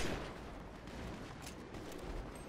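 Gunfire in GTA, a dense, steady stretch of shots and blasts at moderate loudness with no clear talking.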